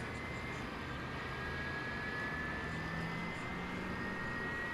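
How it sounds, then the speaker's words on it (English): Boeing 767 jet engines at DFW Airport at night, the aircraft bound for Louisville from the UPS area, make a steady, unbroken roar with a faint high whine throughout, heard from a moderate distance. "This is a Boeing 767 on its way to Louisville."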